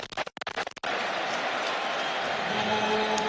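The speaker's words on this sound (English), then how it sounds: "That's got the crowd going, Andy." Football crowd at a Leicester City match against West Bromwich Albion cheering loudly and steadily after a strike by a new signing, a dense, sustained roar that swells in after a few brief percussive knocks.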